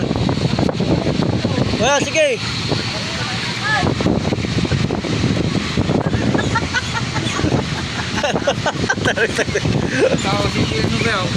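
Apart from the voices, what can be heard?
blower running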